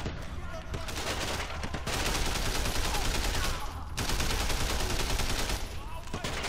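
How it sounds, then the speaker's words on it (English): Repeated blind-fire gunshots in the video game Sleeping Dogs crack out in rapid, near-continuous volleys, loud and close, with short pauses between bursts over a steady background of game noise. "This blind fire is so nice, so you can just like shoot once and they'll get stunned."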